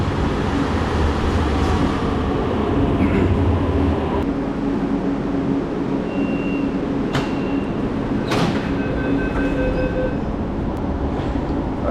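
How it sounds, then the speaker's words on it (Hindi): Inside a nearly empty moving train, a constant loud rumble fills the carriage, with a few faint metallic squeals and rattles over the steady roar and no talking. "अरे ये देखो, पूरा ट्रेन खाली है, सिर्फ 1 या 2 ही पैसेंजर हैं।"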